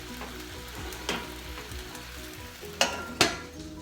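Beef stir fry sizzling steadily in a covered pan, a soft constant fry broken by a few clinks of the lid and utensils.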